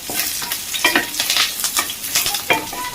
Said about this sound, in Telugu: దీంట్లోనే కొంచెం అంతా కరివేపాకు వేసి కలిపేసుకోండి